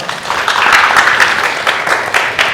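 An audience claps for a speaker being introduced at a Seoul NFT artist forum talk concert, a dense, steady patter of many hands lasting a couple of seconds with no voices over it.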